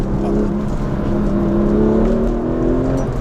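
A Porsche 996 GT3, the first water-cooled 911 GT3 with its engine at the rear, accelerating on the road, its engine note rising steadily and loud and close throughout, with no talk.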